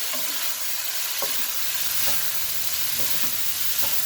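Chicken and vegetable lo mein noodles stir-fry with a loud, continuous sizzle close by, broken by regular scrapes and knocks of a utensil tossing the pan, with no talking.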